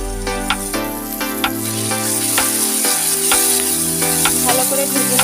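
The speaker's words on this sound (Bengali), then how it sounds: "ভালো করে ভেজে নেব।" Chicken pieces frying in a pan send up a steady, loud broadband sizzle, with occasional clinks of a spoon stirring against the pan, no voices.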